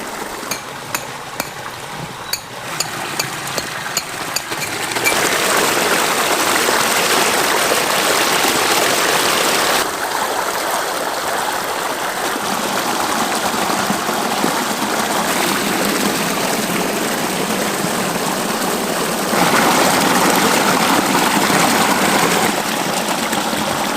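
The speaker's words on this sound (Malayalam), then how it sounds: "വെള്ളം വന്നിട്ട് മുടി പോലെ ഇങ്ങനെ ചാടിക്കൊണ്ടിരിക്കുക" Water spilling over a stone set into a small waterfall so the flow fans out like strands of hair, a steady close rushing splash that swells louder after the first few seconds, with faint tapping early on.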